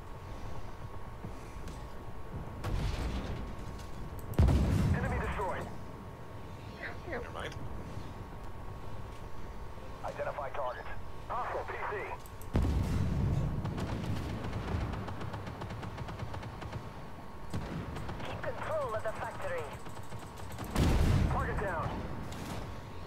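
Tank cannons boom in the online game Armored Warfare, several heavy low blasts spaced seconds apart over a constant engine rumble, with players talking between the shots.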